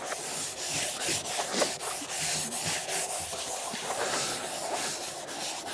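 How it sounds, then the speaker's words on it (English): Sanding scuff pad rubbing across the side of a plastic rain barrel to prepare it for paint, a steady close scratchy rasp with repeated short strokes, no talk. "come around the side and scuff this up"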